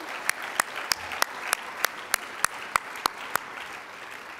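Applause at a businesswomen's awards presentation comes as a run of evenly spaced, sharp claps repeating roughly three times a second over a soft crowd murmur.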